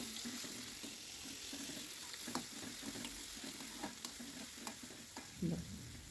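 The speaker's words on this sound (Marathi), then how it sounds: "कांदा टाकला की चांगलं परतून घ्यायचं थोडासा ब्राऊनिश कलर येईपर्यंत" Onion being stir-fried in a pan for a potato dish, a soft steady sizzle broken by repeated scraping strokes and taps of the spatula, fairly faint and close.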